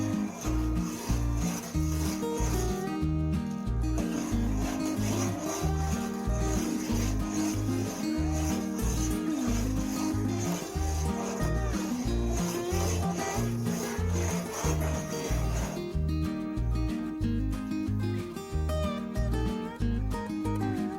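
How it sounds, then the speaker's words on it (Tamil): Steady rhythmic scraping of a spoon stirring a thick coconut burfi mixture in a pan, repeating continuously throughout at a moderate, even pace, with no talking. "அதனால் நம்ம அடுப்பு பக்கத்துலேயே இருந்து கிண்டிகிட்டே இருக்கணும்."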